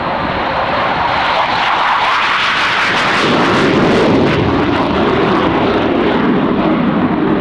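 Loud roaring jet engine of an aircraft departing the runway at the 1995 Fairford airshow, a continuous broad rumble that swells and thickens midway as it passes near.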